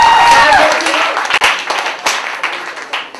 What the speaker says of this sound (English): Applaud the score.